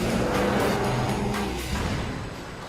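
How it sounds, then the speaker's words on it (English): A fifth-generation Chevrolet Camaro's engine roars loudly and steadily for a few seconds, with a broad, rough exhaust tone. "combining raw power with that signature Camaro sound"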